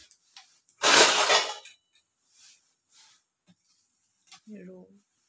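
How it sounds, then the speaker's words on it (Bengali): A spoonful of Royal Canin Maxi dry dog food kibble for a German Shepherd puppy is poured with one loud, close rattling rush. Faint clicks follow, and a brief voice comes near the end. "চামচটা দিয়ে রয়্যাল ক্যানিংটা দেখুন কতটা দিচ্ছে, এই 1 চামচ,"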